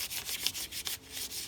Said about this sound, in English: I'm just sanding that oil into the wood, giving a hand rub finish